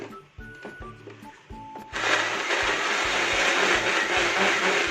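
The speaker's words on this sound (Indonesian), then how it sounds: "Kita blender sampai halus." An electric blender starts up and runs steadily, grinding coconut milk, coriander and turmeric powder into a spice paste for Acehnese fish curry; a loud continuous whirring roar follows quieter kitchen clatter.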